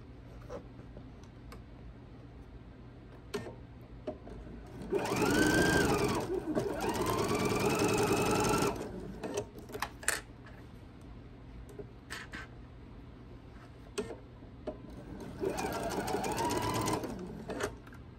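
A sewing machine stitching quilt binding runs in two loud bursts of rapid whirring stitches, each lasting a few seconds, separated by a quiet stretch with small handling clicks.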